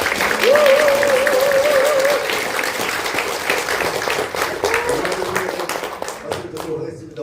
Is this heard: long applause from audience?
yes